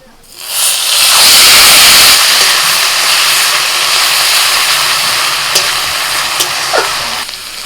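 Onion paste dropped into hot oil with black cumin tempering, an abrupt loud hissing sizzle that bursts up and then settles into a steady, strong frying hiss with a few clicks.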